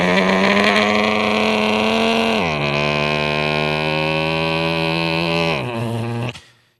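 A performer's voice imitates a Yamaha RX100 two-stroke motorcycle riding off, a loud continuous buzzing engine drone with one drop in pitch like a gear change partway through, cutting off sharply near the end.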